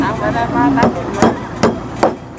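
Hammer blows driving something in: four sharp, loud strikes spaced roughly half a second apart, each ringing briefly, with a faint background hum and murmur beneath.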